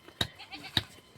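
Two quick, bright goat bleats ring out close by about half a second apart, with a third starting as the moment ends.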